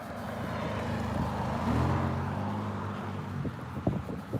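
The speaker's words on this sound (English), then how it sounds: "Revving his engine right after he goes through the intersection." A car drives through a street intersection, its engine rumbling and then revving up with a rising tone. Traffic noise sits underneath, and a few sharp knocks come near the end.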